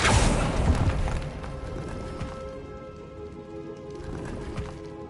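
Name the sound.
Confringo blast spell cast in a Harry Potter video game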